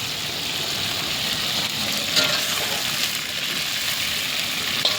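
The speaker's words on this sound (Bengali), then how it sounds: "এই খিচুড়ির ফুলকপিটা একটু ভাজা করে নিচ্ছি" Cauliflower for a vegetarian khichuri frying in oil in a home kitchen, a steady broad sizzle that holds evenly throughout with a few brief sharper crackles and no talk over it.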